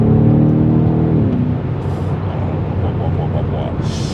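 A BMW M5 Competition F90 engine accelerating, a loud close roar that rises in pitch and then spreads into a broad, rushing growl, with someone talking over it.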